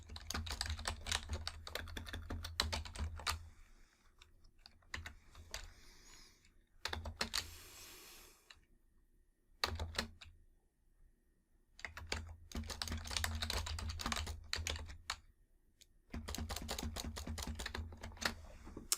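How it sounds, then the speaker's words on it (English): Rapid bursts of close computer keyboard typing come in quick clattering runs, separated by short pauses, with no speech. "There, I've typed it."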